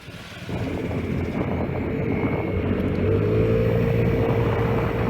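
Vespa scooter pulling away and riding, its small engine starting after a brief quiet moment and settling into a steady, close buzzing hum with a faint rising tone.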